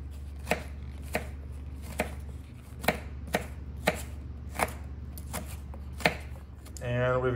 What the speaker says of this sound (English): And we're also gonna cut our onion.